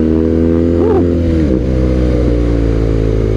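Aftermarket exhaust on a BMW R nineT motorcycle revving hard, a loud, close, steady engine drone with a rising and falling blip near the start, no talk over it.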